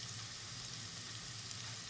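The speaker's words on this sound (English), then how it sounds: "I've got my onions and garlic going there for a few minutes" Onions and garlic frying in a pan, a continuous bright hissing sizzle with no voices.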